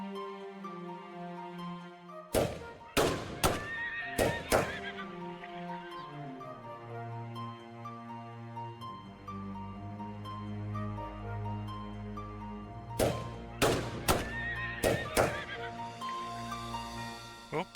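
Horses neigh in the FreeCol video game, two clusters of sharp loud whinnies over a steady background of synthetic game music tones.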